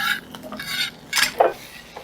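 Cut green beans (sitaw) drop into a wok with a few quick clattering clinks and scrapes of a utensil against the pan, loud and close, with no talking.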